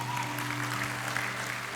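Brief, dense applause from an audience at a church sermon: steady, even clapping with a low hum beneath and no voices.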